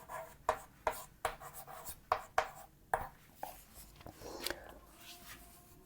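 Chalk or pen strokes scratching out points on a board during a Hindi child-development lesson, a run of short sharp taps and scrapes in irregular bursts, fairly close with no talk over them.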